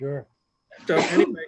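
A sneeze bursts out in a meeting room during a town selectmen's meeting, a short close sound right after a brief spoken word.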